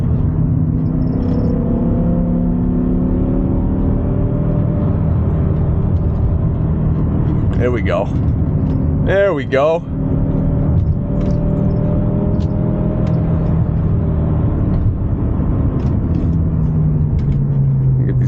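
A BMW E60 M5 with its V10 engine cruises along a flat road, a steady low engine drone and road rumble filling the cabin while someone speaks briefly over it.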